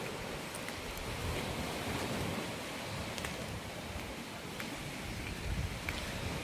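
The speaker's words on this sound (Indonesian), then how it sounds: "Udah lama banget gak dengerin suara laut." Sea waves wash steadily near a Bali resort pool at Lovina, a continuous broadband surf roar holding an even level throughout, with no voices over it.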